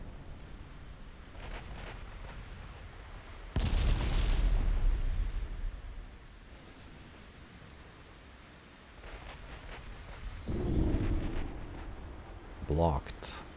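Big naval guns on warships fire in the Ultimate Admiral Dreadnoughts game, several deep booming blasts with long rumbling tails, one especially heavy, spaced apart under a voice talking.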